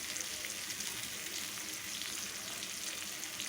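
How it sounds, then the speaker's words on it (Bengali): Large potato pieces fry in hot oil in a wok, a dense, steady sizzle heard close up and alone throughout. "কড়াইতে তেল দিয়ে দিয়ে দিলাম আলু মাংসের এই বড় সাইজের আলুগুলো আমি সুন্দরভাবে ভাজা করে নেবো"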